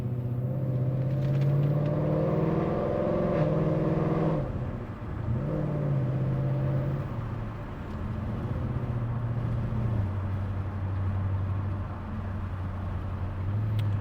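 A supercharged 5.0 V8 in a 2020 Ford Mustang GT hums loudly from the cabin and swells in revs early on. It dips briefly, then settles into a steady, lower cruising drone with no talk over it.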